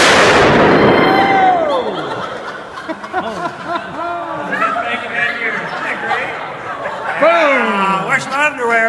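A magnesium blast goes off with a sudden loud boom at an outdoor art event, followed by a decaying rumble while people laugh and talk excitedly.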